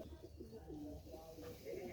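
Female pigeon cooing close by, a few soft low throaty coos in quick succession, very quiet, with a person speaking faintly alongside.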